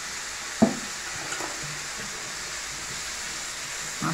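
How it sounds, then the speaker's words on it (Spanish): Onion and white or black pepper stirred in a sizzling frying pan, a steady close hiss of frying with a sharp clack of the spoon early on and soft scraping after. "Vamos a mezclar todo"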